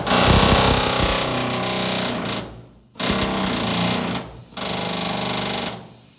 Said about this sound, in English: the air hammer